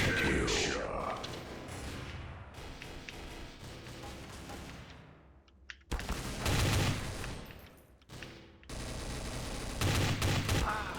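Bursts of gunfire from Counter-Strike: Source in a competitive match, loud rapid shots coming in clusters with brief lulls between volleys, under game sound effects.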